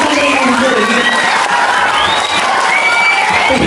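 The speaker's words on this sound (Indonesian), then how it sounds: "Sekali lagi dengan tepuk tangan yang meriah saja" Loud, dense crowd noise at a temple event in Gianyar, Bali: clapping mixed with cheering, whoops and children shouting, with excited voices throughout.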